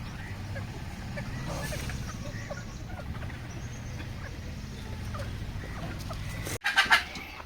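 Chickens and guinea fowl clucking and murmuring in a steady low chorus on a farm, with scattered sharper calls and a brief louder burst near the end.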